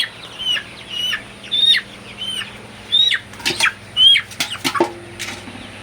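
A 32-day-old Sonali super hybrid chicken is caught by hand, flapping its wings in several loud bursts while clucking and squawking close up, with other birds chirping faintly in the background.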